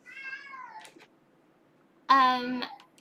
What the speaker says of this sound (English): My cat's going apeshit. He really doesn't like the thunder and lightning.